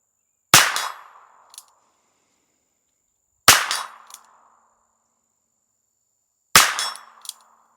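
A Ruger Wrangler revolver fires three single shots a few seconds apart, each sharp report followed at once by a ringing clang from the steel target and a short decaying tail.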